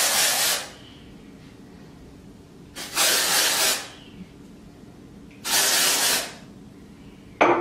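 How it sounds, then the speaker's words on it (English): VO5 dry backcombing spray hisses from an aerosol can into hair roots in three separate bursts, each lasting about a second, loud and close, with quiet pauses between. "So just spraying into roots."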